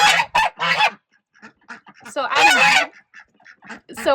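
Domestic geese kept on a farm to guard ducks honk in a series of loud, nasal bursts close by, with quieter honks between them and a single brief spoken word.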